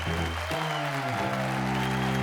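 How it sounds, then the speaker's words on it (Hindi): An audience claps for a rap contestant on a competition show, a short burst of steady applause mixed with sustained tonal music underneath. "एक बार तालियां टैलेंट के लिए।"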